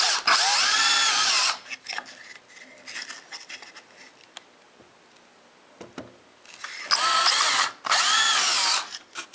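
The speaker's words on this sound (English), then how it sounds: "To drill the holes, I'm just going to use a 5/16" A power drill with a 5/16-inch brad point bit whines loudly as it bores into wood in two long bursts, with quieter scraping and handling noises in between.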